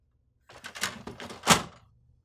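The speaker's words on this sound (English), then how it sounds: "Slide out the paper guides and slide in the input tray." The input tray of an HP OfficeJet Pro 8720 printer being slid in: a short series of plastic scrapes and clacks ending in a firmer thunk, close and fairly quiet.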